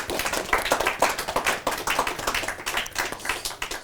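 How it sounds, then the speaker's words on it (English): A conference audience at a human rights forum gives a brief round of clapping for two pastors, a steady patter of many hands at moderate loudness with no voices over it. "Short round of applause to our two pastors"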